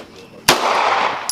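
A single sharp .223 rifle shot cracks loud and close at an outdoor shooting range, its burst of noise trailing into a long rushing decay, with a second fainter report near the end.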